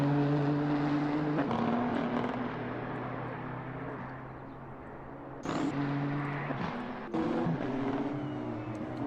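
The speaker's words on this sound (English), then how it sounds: "we'd like you to hear the sound, the raw sound of the cars" GT3 race car engines in a racing video game roar continuously during qualifying at the Red Bull Ring, high-pitched and loud, with gear shifts and revs rising and dropping as cars pass close by.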